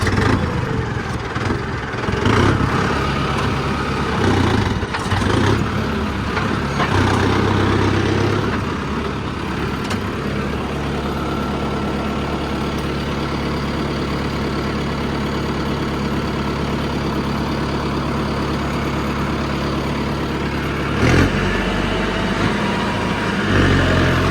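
A tractor pulls a plough through a field, and the heavy diesel engine keeps up a steady, continuous rumble under load. It stays fairly close the whole time, with no talking.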